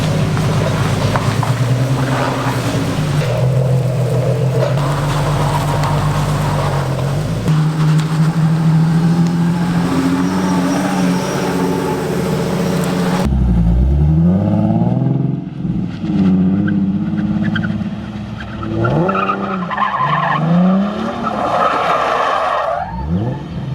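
A Nissan 370Z fitted with a Mega Mantis FDF angle kit drives loudly, its engine revving and tires squealing and skidding. The engine note rises and falls through sweeping slides.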